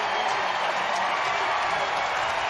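A baseball stadium crowd cheers steadily after a home run during a Padres vs Giants game as the Giants clinch the NL West, a broad, distant roar heard without a break.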